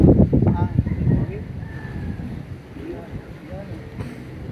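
Strong outdoor wind gusts roar and buffet the microphone at a cockfight arena, loudest at the start and then settling into a steady blustery rush.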